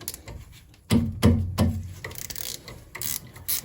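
A ratchet wrench loosening the top brake caliper bolt on a Citroen C3 during a pad change: a few loud, close clicks in quick succession, followed by lighter, irregular ratcheting.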